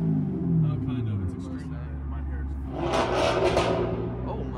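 A new Ford Mustang engine revs and rumbles nearby at a car meet, swelling into a louder roar partway through, with people talking over it.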